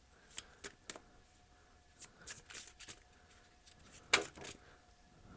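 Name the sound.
shuffling an oracle card deck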